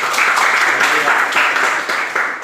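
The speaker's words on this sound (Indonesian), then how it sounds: "berikan aplaus" An audience applauds in a classroom teaching session, a steady broadband clapping wash lasting a couple of seconds at moderate loudness with no voices over it.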